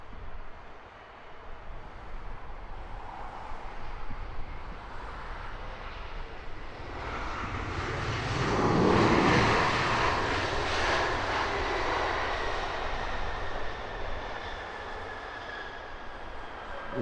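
A Lufthansa airliner arriving from Munich at Heathrow Airport roars overhead, its engine noise building to a loud peak midway then holding as a steady whine and rumble, with no one talking.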